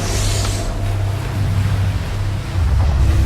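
Big surf at the Jaws break breaking close by, a steady roaring wash of heavy waves with wind noise buffeting the microphone throughout.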